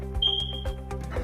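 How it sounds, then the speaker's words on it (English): A smoke detector fire alarm in a bedroom of a five-bedroom house in Middletown, Connecticut gives one thin, high electronic beep lasting about half a second, fairly faint against a low, steady background hum. "we know it has fire alarms in all of the bedrooms and you can hear them"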